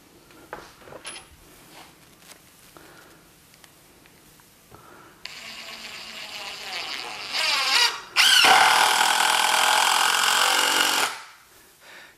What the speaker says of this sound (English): I'll switch over to Torx and get to enjoy the benefit of not having to push quite so hard on the